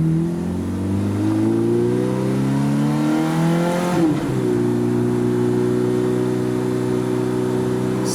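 A 2005 Ferrari F430 Spider accelerates on the road, its engine note climbing steadily, dipping sharply at a gear change, then pulling again with a strong, smooth drone.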